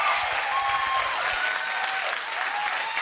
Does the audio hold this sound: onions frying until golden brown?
no